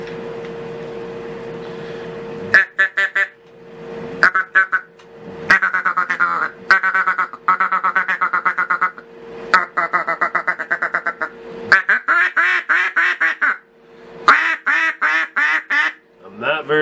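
Custom-made duck call blown in a series of raspy quacking bursts, close and loud, starting after a steady hum, with rapid multi-note sequences repeated throughout.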